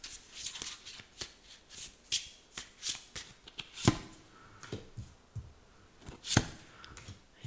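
Oracle cards are shuffled by hand in a quiet room, producing a close run of crisp riffling flicks and soft slaps at an irregular pace.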